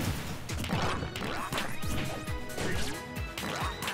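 Repeated down smash attacks in Super Smash Bros 4 land in quick succession during a tournament match, each a sharp, punchy hit with whooshing swings, steady and close, with no talking.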